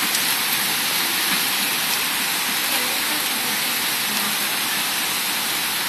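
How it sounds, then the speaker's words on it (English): Heavy rain pours steadily during a violent thunderstorm in New York City, a dense, constant hiss with no break across the whole stretch. "rain, it smells good"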